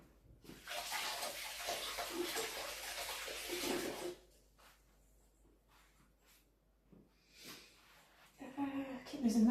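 Water runs from a kitchen sink tap while hands are washed of mince pie juice, a steady close splash for about four seconds, then quieter handling noises and a brief second gush near the end.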